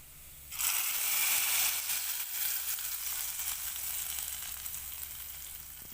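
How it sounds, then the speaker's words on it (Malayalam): Sliced onions sizzle steadily in hot oil for a fish curry, a dense crackling hiss that starts abruptly and holds, close and loud, with no talking. "നമുക്ക് കുറച്ച് ഉള്ളി അതിലേക്ക് വറുത്തിടാൻ വേണ്ടിയിട്ട്."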